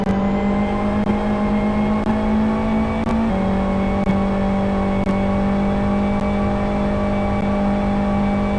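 Race cars at speed on a circuit during a 24-hour endurance race at Aston GP, a steady, loud engine drone with sustained harmonic whine, close and continuous throughout, with no voices.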